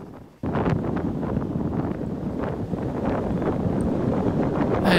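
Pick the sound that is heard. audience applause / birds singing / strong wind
strong wind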